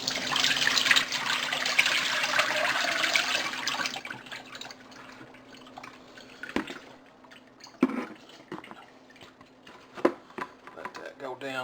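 Water splashes and pours while soured cucumber seeds are rinsed in a strainer over a bucket, a strong rush at first, then quieter trickles and drips, with a person speaking throughout.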